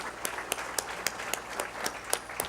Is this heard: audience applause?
yes